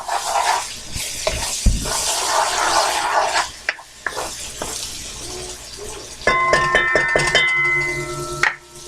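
Vegetables softening in a pan for arroz con pollo, with loud sizzling broken by stirring scrapes and clinks of a utensil against the cookware, close and steady.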